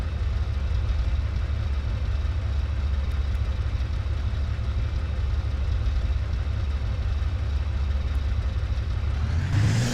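A 6-liter V12 engine idles in the Automation car game, a steady, loud low rumble that holds evenly throughout with no talk over it.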